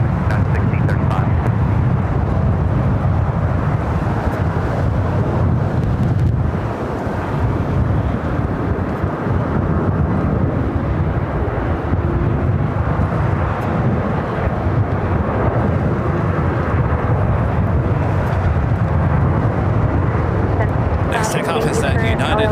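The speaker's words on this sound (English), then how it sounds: "Takeoff is at United at 757." A United Boeing 757-300 roars down the runway on takeoff at LAX in strong winds, a loud, steady broadband jet rumble that holds for the whole stretch, with voices talking over it.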